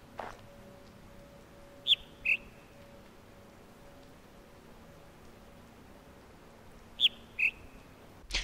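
A bird sings in The Witness video game as a sound puzzle: two short, clear whistled phrases of a couple of notes each, separated by a long quiet stretch over faint ambient hiss.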